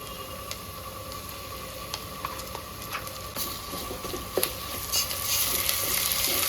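Onions sizzle and fry in a pan with ginger garlic paste added, a steady close crackle with occasional stirring scrapes and clinks, growing slightly louder toward the end.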